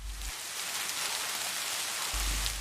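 Heavy rain pours over a city in a dense, steady hiss that stays even throughout, with a low rumble at the start and the end and no voices.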